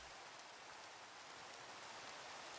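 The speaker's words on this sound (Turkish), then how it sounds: "Yağmur yağıyor yatalım uyuyalım." Steady, even rain falls in the Minecraft video game, a soft continuous hiss with no pauses and nothing else heard.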